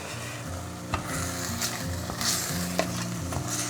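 A salt cod mixture with salt and parsley is stirred in a pan, giving repeated scraping strokes over a gentle, fairly quiet sizzle, with occasional light clinks.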